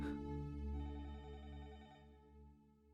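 A telephone rings in a Hindi-dubbed South Indian action film, giving a steady electronic ringing tone that carries on for about three seconds at a low level, with no talk over it.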